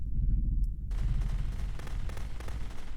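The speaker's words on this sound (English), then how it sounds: "Do we just shoot?" Gunfire in the narrative video game The Beginner's Guide: a dense, loud run of shots that keeps going for the whole stretch, with no talking.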